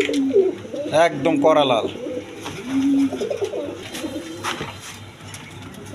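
Indian Lotan pigeons coo in soft, rolling bursts at a market stall, fairly close, while someone talks over them.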